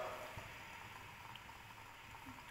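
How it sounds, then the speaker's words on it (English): Water in a pot heated on two gas burners bubbles at a faint, steady boil, a soft, continuous simmering hiss with small pops heard from close by in a quiet room. "Now water has started boiling."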